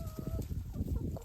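Laying hens, striped and brown birds on an old farmstead, cluck steadily and fairly close in short overlapping calls, with a louder burst at the end and no talking.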